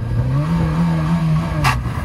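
A GMC truck engine revs hard in neutral, a loud sustained roar holding a steady pitch close by, with a brief sharp hiss or clatter near the end.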